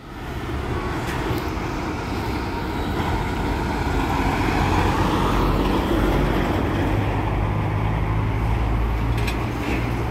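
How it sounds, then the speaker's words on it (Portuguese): A Fênix coach pulls out of Campinas bus station bound for Serra Negra, its engine a loud, sustained low rumble that swells steadily over about ten seconds with no voices. "E aí vem dando saída o Fênix, de Campinas para Serra Negra"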